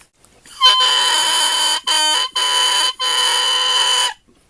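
A handmade reed call blown to imitate a rooster crow gives a loud, close, buzzy crowing tone broken into several long bursts with brief gaps, sounding like a cock-a-doodle-doo with no talking over it.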